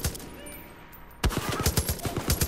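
Turret machine-gun fire in Far Cry 5 breaks in abruptly after a quieter lull, a loud, rapid string of close gunshots hammering in quick rhythmic bursts to the end.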